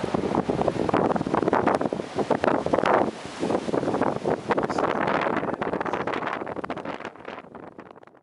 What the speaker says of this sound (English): before the wind sandblasted me